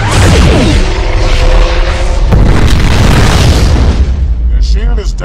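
Starship weapons fire and explode in the Klingon Academy space combat game: a loud, dense roar of booming blasts, with a sharp impact midway and rumbling that carries on to the end.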